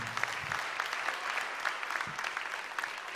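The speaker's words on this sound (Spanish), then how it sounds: "Denle un aplauso al Señor" A church congregation applauds the Lord during a sermon on the Trinity, a soft but steady patter of many hands clapping at moderate distance, with no speech over it.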